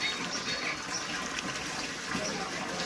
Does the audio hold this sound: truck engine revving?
no